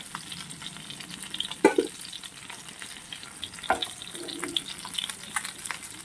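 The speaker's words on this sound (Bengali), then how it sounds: "ভাজা হয়ে গেলে আমি তুলে নেব মাছগুলোকে" Bhetki fish pieces frying lightly in hot oil, a soft steady sizzle with occasional louder crackles and clinks of stirring, close and moderate in level, with no talk.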